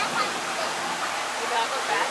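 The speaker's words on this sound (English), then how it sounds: "The waterfall." An indoor waterfall at Epcot's Living with the Land attraction produces a constant, even rushing wash of falling water, moderately loud and unbroken.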